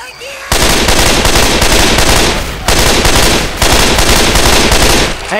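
Rapid, dense gunfire in the video game Left 4 Dead 2 rattles almost continuously in loud bursts with short gaps, close and dominating the sound.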